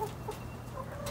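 Chickens cluck softly in a backyard coop on a small one-third-acre homestead, a few short calls over a faint outdoor background, with no talking.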